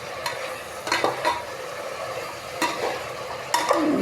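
Chicken frying in a pan, with bursts of sizzling and stirring scrapes recurring every second or so against a steady crackle, close and moderately loud with no talking.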